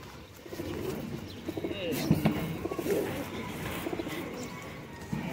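But ke patti pigeons coo softly in a loft, with repeated low throaty coos and light chirps and wing shuffles among faint background noise.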